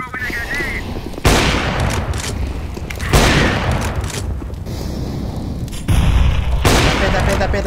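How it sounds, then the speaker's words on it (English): Grenade blasts in CS:GO: several loud broadband booms strike at intervals, each followed by a sustained rumbling tail, amid ongoing game noise and gunfire with voices in the background. "I am throwing a grenade"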